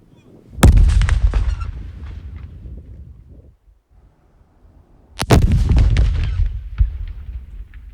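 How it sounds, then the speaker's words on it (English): Two huge explosions recorded at a sound effects session, each a sharp blast followed by a long rumbling decay, with a quiet gap between them; close, loud and booming with no talk. "all placed at various different distances to capture these epic explosions"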